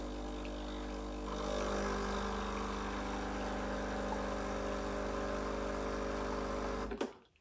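Breville Barista Express BES870 espresso machine running a double-button water flush through the group handle into a cup: a steady loud pump hum and buzz with a constant drone for about seven seconds, then stopping abruptly.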